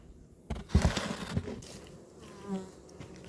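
Close, steady buzzing of many honeybees around a hive, with a few handling knocks and rustles in between and no talking.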